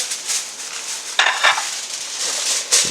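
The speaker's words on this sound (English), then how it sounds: "That's my grill. Sorry, my steak on the grill." A steady hissing sizzle of steak cooking on a hot grill, with a few clinks of utensils scraping the grate close by.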